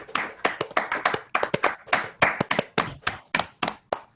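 A small group claps together, a dense patter of hand claps filling the space for several seconds, fairly close and steady.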